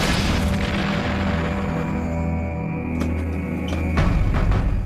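A mine detonates with a deep, rumbling boom that rolls on and fades, followed by a second, sharper thump near the end.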